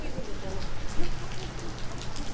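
Rain falls on a city street, a dense continuous hiss and patter of drops on pavement with water running, heard close and fairly loud throughout.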